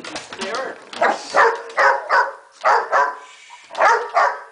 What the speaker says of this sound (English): I've never heard him bark this much